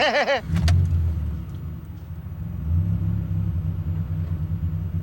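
A car engine turning over and catching at close range, settling into a steady low idle rumble after a brief higher tone at the start.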